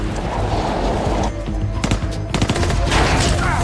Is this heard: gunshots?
yes